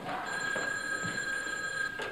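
An old-style telephone bell rings continuously, a bright steady electric trill heard nearby over a faint room background, with no one speaking.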